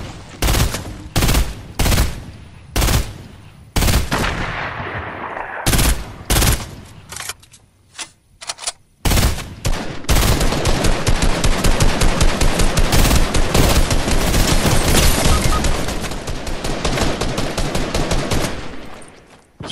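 Fortnite gunfire: loud, sharp single shots and short bursts ring out at uneven intervals, then turn into a long, continuous rapid volley of automatic fire.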